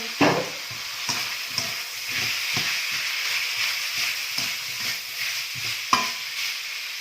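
Onion goes into a hot frying pan with a burst of sizzle, followed by repeated scraping stirs and bursts of spattering at an uneven rhythm.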